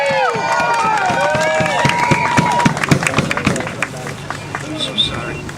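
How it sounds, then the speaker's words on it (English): A crowd at a rally outdoors in Rhode Island gives a round of applause and cheers for Representative Peter Palumbo. The claps are dense and close, with shouts and chatter mixed in, and the noise thins out toward the end. "Let's give a round of applause."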